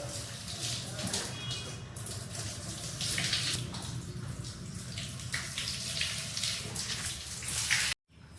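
Water splashes and runs steadily across a temple floor being washed, a continuous close hiss of pouring and flowing water lasting throughout before cutting off abruptly at the end.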